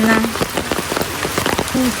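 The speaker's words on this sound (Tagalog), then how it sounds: "bigla naman pong umulan ng malakas" Heavy rain pours down hard on a surface nearby, a dense steady patter, with a faint tone briefly sounding at the start and end.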